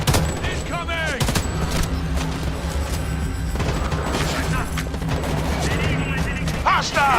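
Gunfire in the video game Homefront: The Revolution, dense overlapping bursts of automatic fire and booms filling the whole stretch, loud and close, with shouted voices mixed in among the shots.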